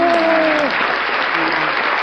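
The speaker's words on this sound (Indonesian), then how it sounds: "Tadi kita habis nyanyi belum kasih tepuk tangan" A group claps together after singing, the steady applause running under a voice that speaks briefly at the start.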